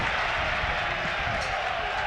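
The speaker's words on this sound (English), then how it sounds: "The crowd enjoying it." Football crowd at a Norwich v Burnley match, a steady broad roar of massed voices and scattered applause filling the stadium, continuous and moderately loud throughout.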